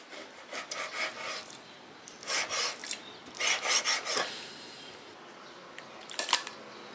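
A knife slices pork tenderloin on a cutting board in a home kitchen, making a series of short scraping, rasping strokes in irregular bursts. The strokes are fairly close, with quiet pauses between them and no talking.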